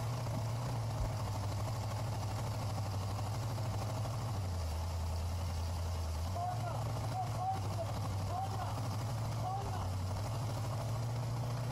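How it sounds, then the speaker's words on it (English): A Pontiac Firebird Trans Am engine, running for the first time after restoration, idles steadily with a low droning hum, its pitch dipping and rising slightly, with faint background voices. "And there's the engine running for the first time."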